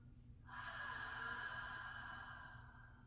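A single long, breathy exhale during an inverted rockback breathing exercise, starting abruptly after a quiet moment and holding steady for over two seconds before fading slightly, close and soft, with no talk.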